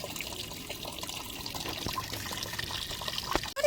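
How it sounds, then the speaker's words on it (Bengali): A pet puppy is bathed with water that pours and splashes steadily at close range, a continuous trickling wash with no talk heard over it. "পুচিস মা বাবাটা স্নান করবে"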